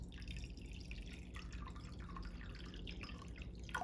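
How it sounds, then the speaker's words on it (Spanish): Strips of aluminium foil lowered into water give soft, close sloshing and dripping, with small irregular liquid splashes over a steady low background hum. "voy a sumergir en agua todo esto"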